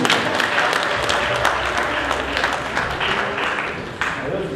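A congregation applauding inside a cathedral, continuous dense clapping that fills the room evenly and fades slightly toward the end.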